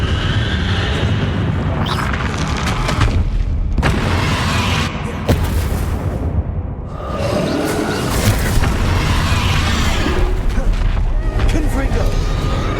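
Spell explosions from Bombarda and Confringo in the Hogwarts Legacy video game, a dense run of loud booms and bursts under busy battle noise, with a voice talking over it throughout.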